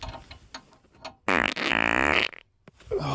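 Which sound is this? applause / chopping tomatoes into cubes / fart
fart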